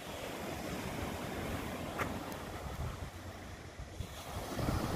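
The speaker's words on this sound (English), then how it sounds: "This is the place to be, Sand Beach." Ocean surf washes steadily onto Sand Beach in Acadia National Park, a soft continuous roar mixed with wind buffeting the microphone, with no voices.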